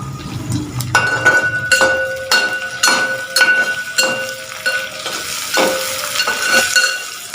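Sliced onion, curry leaves and dried red chillies fry in oil for a Kerala-style kadala roast, with loud sizzling and repeated clinks of a spoon stirring against the pan, close and steady, no talking.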